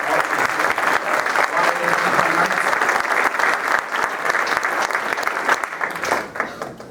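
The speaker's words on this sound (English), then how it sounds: "So let's give them a round of applause also." Audience at a high school jazz band concert applauding, a dense, steady wash of clapping that holds for several seconds before thinning toward the end.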